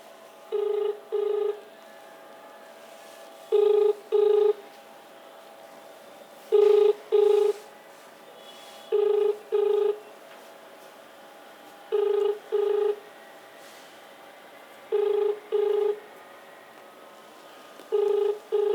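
Telephone ringback tone on an outgoing call, a steady pattern of paired rings repeating about every three seconds, loud and clear with no talking.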